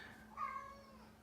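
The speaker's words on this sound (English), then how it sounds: "my cat's meowing in the background" A house cat lets out a single short meow partway through, faint and somewhat distant, in an otherwise quiet room.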